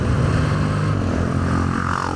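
A supermoto motorcycle goes by, its engine a loud, close, continuous roar that holds steady and then shifts slightly in pitch as it passes.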